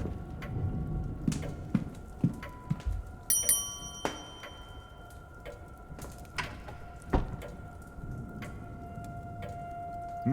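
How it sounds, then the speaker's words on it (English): A hotel reception bell rings inside a video game set in an old manor hotel, giving several bright metallic dings scattered over a faint hum and low ambient background, with no talking. "Oh, I needed to ring the bell."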